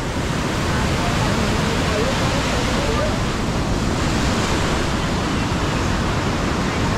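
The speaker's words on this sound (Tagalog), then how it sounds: "Sabi nila, tahimik yung dagat." Steady broadband rush of sea waves washing continuously, dense and fairly loud, with no distinct breaks or voices.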